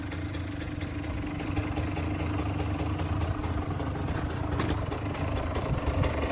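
A motorcycle engine idling steadily as it warms up before wheelie practice. A low, even rumble with a fast, regular pulsing runs throughout at close range, with no speech.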